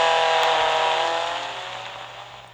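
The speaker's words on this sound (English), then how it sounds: "Up next is my 2016 Alfa Romeo Giulietta TCR." A 2016 Alfa Romeo Giulietta TCR touring car engine in the Real Racing 3 racing game drones at a steady, raspy pitch, loud at first and then gradually easing off, with no voices.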